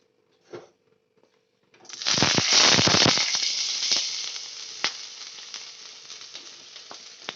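Cabbage, carrot and green chillies hit a hot pan with a loud burst of sizzling that settles into a steady sauté hiss, with a few sharp pops and stirring clinks; a brief clatter comes just before.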